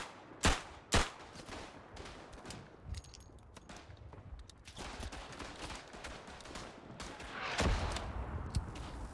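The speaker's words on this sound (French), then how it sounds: "je vais pouvoir lancer le tir d'artillerie" Gunfire and artillery blasts in the World War I shooter game Verdun: two sharp, loud bangs early on, a stretch of dense crackling battle noise, then another heavy blast near the end.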